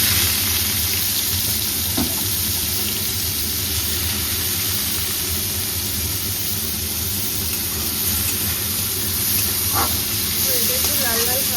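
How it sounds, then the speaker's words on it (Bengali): Onions frying in a pan give a continuous loud hiss and sizzle with a few clinks of a utensil, close, with a steady background hum throughout. "একটু ভালো করে পেঁয়াজটাকে ভাজতে হবে।"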